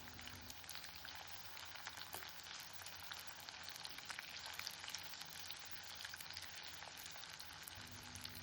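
Sliced onion sautés lightly in a pan, giving a soft, continuous crackling sizzle with scattered pops, quiet and steady throughout with no talking.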